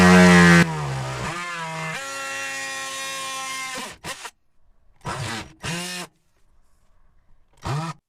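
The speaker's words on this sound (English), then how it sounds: "the way that I'm going to do that is with my trusty Dremel multi-tool" A Dremel multi-tool cuts a hole for a caravan plug socket, starting with a loud high whine that winds down, then several short separate bursts of cutting with quiet pauses between them.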